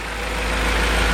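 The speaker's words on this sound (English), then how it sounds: "You got the Vanos noise now a little bit." A 2000 BMW M5 engine idles steadily with the hood open, a faint Vanos rattle mixed into a broad, even mechanical hum that stays constant and close throughout.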